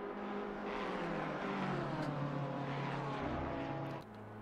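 A Porsche race car passing, its engine a loud sustained drone with a falling pitch as it goes by, then fading out at the end.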